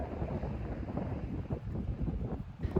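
Strong wind buffets a sand beach on Sakhalin, a steady rough roar with gusty pulses battering close to the microphone, no voices heard.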